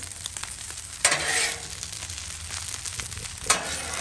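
Fried rice fries on a Blackstone griddle with a continuous crackling sizzle, broken by two sharper scraping bursts as the spatula stirs, close and moderately loud, with no talking.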